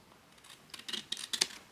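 Scissors snipping through paper while a gift box is folded from a single sheet, a series of crisp, close, quiet cuts that build into quick snips toward the end.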